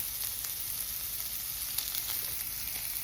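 Bacon sizzles steadily in a pan on a stove turned down a little, a dense continuous crackle with scattered pops, close and alone with no talking.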